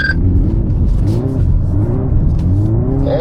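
A Hyundai N car revs hard while drifting, its engine note rising and falling in loud sweeping harmonics, close and continuous with a brief whine of tires toward the end.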